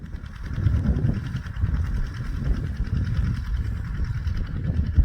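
A small tractor engine runs steadily in a groundnut field during pesticide spraying, a continuous low rumbling drone at moderate loudness with no pauses.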